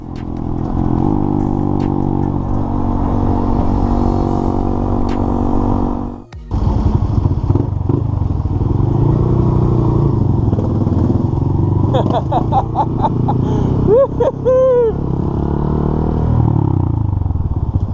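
A Honda Monkey 125cc motorcycle engine with a full Yoshimura RS-3 aftermarket exhaust drones steadily, briefly cut off, then revs back up with rising and falling pitch as the bike accelerates and shifts gears nearby.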